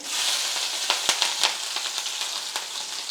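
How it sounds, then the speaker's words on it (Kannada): Cumin seeds and green chilies frying in a small amount of hot oil in a pan, a close, steady sizzle broken by brisk crackles and pops, with no one talking. "ಮೊದಲನೇದಾಗಿ ಜೀರಿಗೆ ಹಾಕೋತಾ ಇದ್ದೀನಿ ಸ್ವಲ್ಪ ಹಸಿಮೆಣಸಿನ್ಕಾಯಿ"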